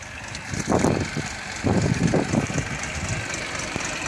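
Jinma 244 tractor pulling a manure spreader, its engine chugging and surging in rough bursts at close range, loud and uneven throughout, without speech.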